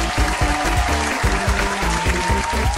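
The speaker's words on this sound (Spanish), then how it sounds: "¡Den todos un aplauso a nuestro hermoso concursante!" A short burst of synthetic-sounding clapping, rhythmic and loud, with a tonal jingle layered over it: game applause from Mettaton's quiz show in Undertale, Spanish version.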